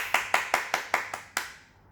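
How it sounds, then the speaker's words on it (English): Seven sharp, evenly spaced claps from a small group at a children's rhyme session, close and clear, the last one ringing out briefly before silence. "Give yourselves a big round of applause"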